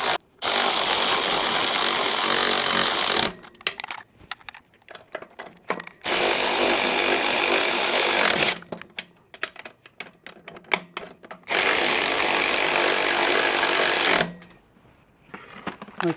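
A power tool drives bolts while an electric tricycle frame is assembled, three long loud buzzing bursts separated by quieter handling clatter and clicks.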